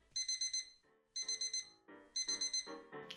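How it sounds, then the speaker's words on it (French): An alarm clock rings at 6 a.m. in the morning on a road trip from Adelaide to Darwin, giving three loud bursts of rapid electronic beeps separated by short pauses, with no one speaking. "Petit réveil."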